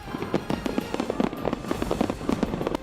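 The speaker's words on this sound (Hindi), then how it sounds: "चारों तरफ पटाखों की आवाज गूंजती सुनाई दी" Rapid, irregular bursts of firecrackers and fireworks crackle and pop continuously, dense and fairly close.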